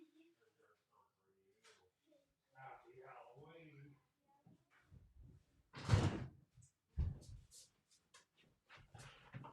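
A house door opens and closes for Halloween trick-or-treaters, with a clear thump and slide among scattered knocks, while people talk in the background and a dog whimpers softly.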